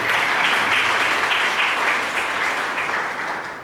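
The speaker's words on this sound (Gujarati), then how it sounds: "આપણા વક્તા શ્રી શ્રીનિવાસ આલવાભાઈ માટે ફરીથી એકવાર જોરદાર તાળી." A Gujarati-language talk audience on artificial intelligence breaks into loud, dense applause for the speaker, a steady wash of many hands clapping close by that tapers slightly toward the end, with no talking over it.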